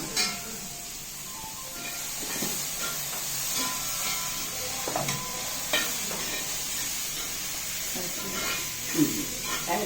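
Chicken and onions sauté in a pan for chicken thoran, with a soft, steady hiss of frying and occasional scraping stirs, close by and without speech.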